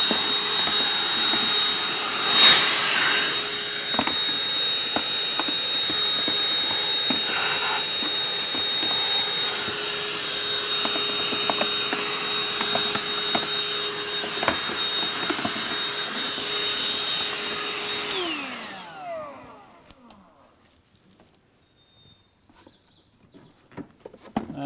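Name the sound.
vacuum cleaning out a car air filter housing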